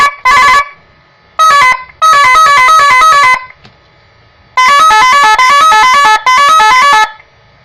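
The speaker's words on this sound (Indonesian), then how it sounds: "sirine custom." A custom electronic siren from a motorbike's domino switch holder blares in loud bursts of rapidly warbling, stepping tones, cutting on and off with short silences between runs.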